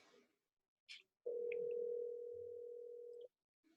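A phone call placed from an 801 number rings out as a single steady electronic tone lasting about two seconds, preceded by faint clicks and then cut off abruptly, heard alone and fairly quiet.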